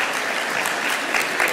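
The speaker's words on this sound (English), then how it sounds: "So if you'll all join me in giving him a round of applause and welcome him to the deck." Steady applause from a lecture audience welcoming a speaker, dense and continuous clapping with no talk over it.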